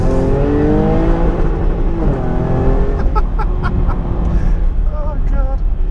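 Jaguar XE S with a 3-litre V6 engine revving hard in first gear through tight corners, loud and close, pitch climbing and dropping as the revs rise and fall.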